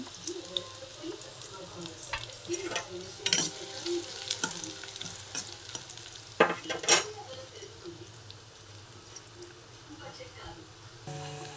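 Chopped onions sizzle in hot oil with cumin and mustard seeds as a spoon stirs and scrapes the pan, a soft steady frying hiss broken by clinks, with someone talking over it.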